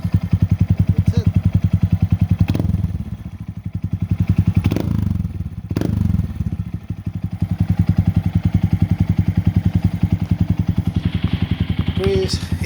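A 2022 Honda Monkey fitted with a Yoshimura exhaust runs close by, its rapid, steady single-cylinder thump loud throughout with a few brief revs and dips in the middle.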